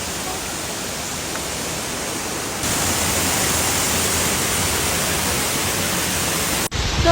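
A waterfall roars with a broad, steady rush of falling water that grows louder partway through and stays constant until it is cut off abruptly near the end.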